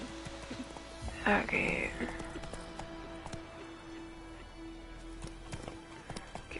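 Horse hooves clip-clop in The Witcher 3 as the horse moves off, with a brief whinny early on and then a steady hoof rhythm under game ambience, while someone speaks briefly.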